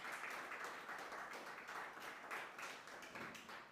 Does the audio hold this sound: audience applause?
yes